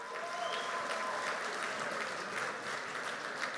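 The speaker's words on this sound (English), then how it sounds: "can I do a little survey by a round of applause?" Steady, dense applause from an audience fills the room at a leadership celebration event, continuous and fairly close throughout.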